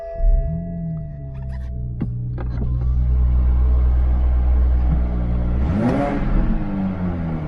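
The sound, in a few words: BMW inline-six car engine starting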